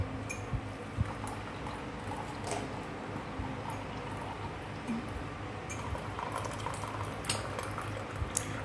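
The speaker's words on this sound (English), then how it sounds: "I'm going to pour in my tea cup." Arabian tea is poured from a jug into a tea cup, a soft, continuous liquid trickle close by with faint bubbling and a few small clinks.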